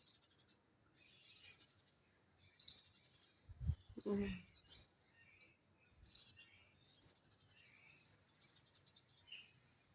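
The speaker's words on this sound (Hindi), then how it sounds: "चिड़ियों की चहचहाहट है।" Birds chirp in short, repeated bursts outdoors in the morning near guava trees, fairly faint against a quiet background, with one dull nearby thump partway through.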